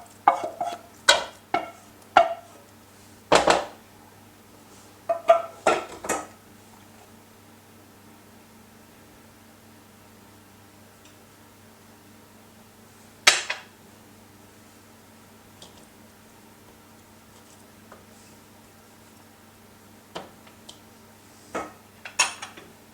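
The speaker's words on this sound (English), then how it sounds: "So we give these a nice strong stir together, trying to incorporate all of the ingredients evenly." Utensil clinks, scrapes and taps against a bowl as carrot pulp, breadcrumbs, cherries and cinnamon are stirred together, coming in scattered bursts with quiet gaps between them.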